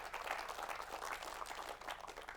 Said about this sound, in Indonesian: tepuk tangan buat Pak Erwan.